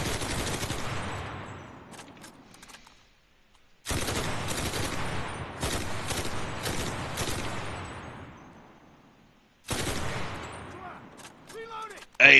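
Gunfire in the World War II shooter game Enlisted comes in three loud automatic bursts, each trailing off into echo, with near-silent gaps between them and a sharp new burst at the very end.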